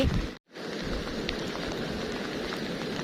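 Steady rain in a rural field in northeastern Thailand where a lift net is raised, heard as a dense, continuous hiss of drops on surfaces, fairly loud and close, with a brief dropout near the start and no speech.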